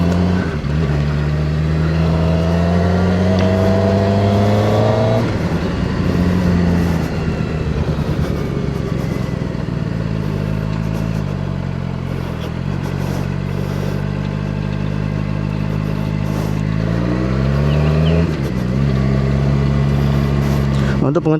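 Rider's view aboard an SRK 450RR motorcycle with about 1,746 on the clock: a loud, close engine drone rising and falling as it revs through gears, pitch climbing then dropping, with wind noise and someone talking over it.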